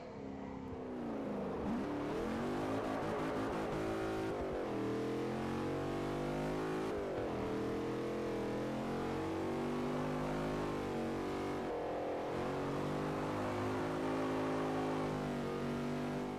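A Dodge Challenger's engine in the racing game Forza 4 drones steadily, rising and falling in pitch through repeated revs and shifts as the car drives, loud and continuous with no talking.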